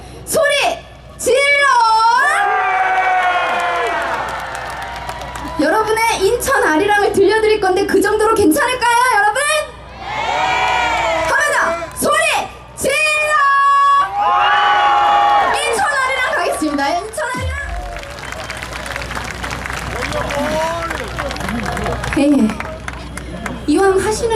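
A large crowd at the Soraepogu festival in Korea shouts and cheers loudly for a sustained stretch, with voices rising and falling and brief lulls between surges.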